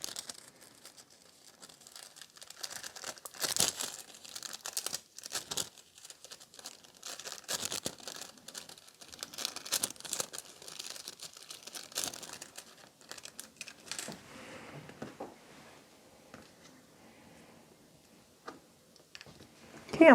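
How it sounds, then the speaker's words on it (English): Nail art foil crinkles and crackles softly at close range as it is pressed and peeled onto a nail, in scattered bursts of light rustling with quiet gaps between. "And then transfer the foil on this one."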